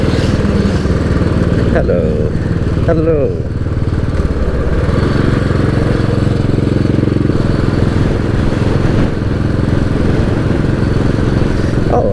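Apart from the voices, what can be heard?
motorcycles at an Irish motorcycle show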